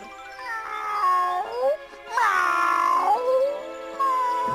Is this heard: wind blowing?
no